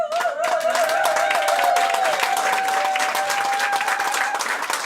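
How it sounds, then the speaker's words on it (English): A crowd claps steadily and fairly loudly for several seconds, with a faint sustained tone ringing beneath the applause. "please give a huge round of applause"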